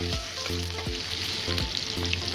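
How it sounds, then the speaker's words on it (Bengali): Chopped onion frying in a pan for egg curry, a steady close sizzle with periodic scraping stirs about every half second, with no talking. "পেঁয়াজটা অল্প লাল লাল করে ভেজে নেব"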